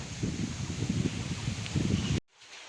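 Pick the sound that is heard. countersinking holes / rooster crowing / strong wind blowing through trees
strong wind blowing through trees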